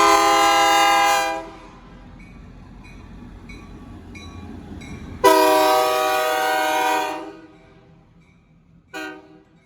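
An Indiana & Ohio Railway train sounds its horn in two long, loud blasts separated by a rumbling stretch of passing cars, with a short final toot.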